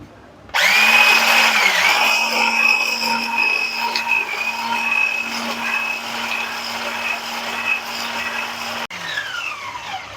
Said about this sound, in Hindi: इसमें ऐड करके क्रीम को हम अच्छे से बीट करेंगे।